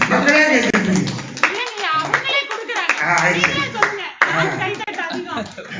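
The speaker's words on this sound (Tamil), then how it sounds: "மக்களே கைத்தட்டுங்க." An audience at a Tamil debate show claps steadily, a dense patter of hands that carries on while voices talk over it.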